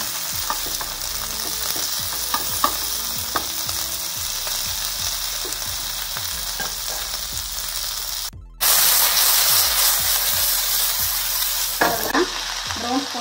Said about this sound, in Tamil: இந்த மாதிரி ஒரு ஸ்டீரிங் சவுண்ட் வரணும். அப்போ தான் பேன் ரெடியாக இருக்குன்னு அர்த்தம்.